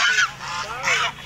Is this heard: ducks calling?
yes